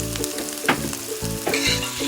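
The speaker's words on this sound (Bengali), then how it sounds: "কুচানো পেঁয়াজগুলো লাল লাল করে ভাজা হয়ে গেছে" Chopped onions fry in a pan with a little sugar while being stirred, a continuous close sizzle broken by scraping stir strokes, with no talking.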